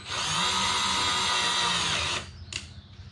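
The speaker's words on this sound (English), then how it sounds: "I'm gonna drill through here into my bumper." A power drill whines steadily at high speed for about two seconds while drilling into a Chrysler 300's front bumper, then winds down, followed by a short scrape and quieter handling.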